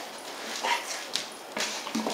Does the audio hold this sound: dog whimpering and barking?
yes